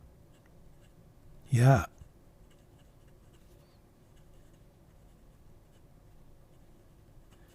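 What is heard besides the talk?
Majohn C5 fountain pen writing in reverse on paper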